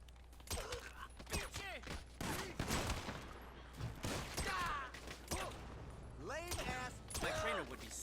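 Rapid pistol gunfire in the video game GTA Online, many loud sharp shots in irregular bursts over a low engine-like drone, with someone speaking between and over them.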